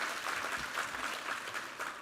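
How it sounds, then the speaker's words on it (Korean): A church congregation applauds at a Sunday service, a dense, steady wash of many hands clapping at even loudness throughout, with no voices over it. "우리 하나님께 감사와 영광의 박수 올려드리겠습니다"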